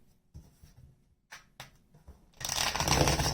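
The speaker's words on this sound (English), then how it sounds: "Let's get a good shuffle here." Tarot cards being shuffled by hand, a few soft taps and slides followed by a louder, rapid riffling burst near the end, close and alone.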